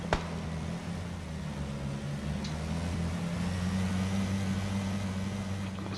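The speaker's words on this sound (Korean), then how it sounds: "야 어디 차 소리 들리는데?" A vehicle engine drones in the battle-royale video game PUBG Battlegrounds, a low steady hum that slowly grows a little louder as the car approaches, with no voices over it.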